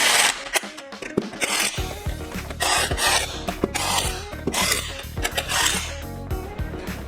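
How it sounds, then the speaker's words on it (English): On a turbo KA24DE Datsun 510, a torque wrench tightening turbo downpipe bolts produces close metallic rasping and sharp clicks in an uneven rhythm over several seconds. "Okay, we're gonna torque these exactly right."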